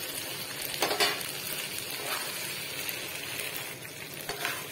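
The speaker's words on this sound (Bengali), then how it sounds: "এটাকে দেওয়ার পর ভালো করে আমি কষছি, ভালো করে মাখা মাখা করে কষতে হবে" Pointed gourd (potol) and potato pieces fry with spices in a pan, a steady sizzle running throughout with a few louder scraping stirs of the spoon, close and continuous without any talk.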